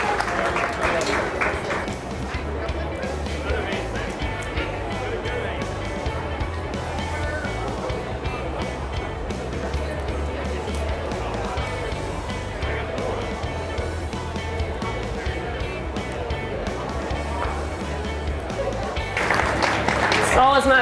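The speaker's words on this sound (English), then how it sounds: "Let's give them all a big round of applause as they exit the ring" Applause from an audience ringside at a county livestock show ring as exhibitors leave the ring, a steady, dense clatter of clapping lasting the whole stretch, with crowd murmur and voices mixed in.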